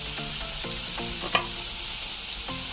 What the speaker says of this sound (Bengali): কাঠি কাবাব আমার হয়ে গেলে এটা কিন্তু বেশি করে ভাজলে হবে না তাহলে কিন্তু চিকেনগুলো একেবারে শক্ত হয়ে যাবে